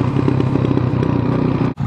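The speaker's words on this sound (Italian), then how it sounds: "Sento il MIV di Luna qua dietro che scoppiatta il rilascio" A MIV motorcycle exhaust crackling and popping on throttle release while descending from the Colle del Nivolet, loud and close, with a steady engine drone and dense rapid clatter through the whole stretch before a brief dropout.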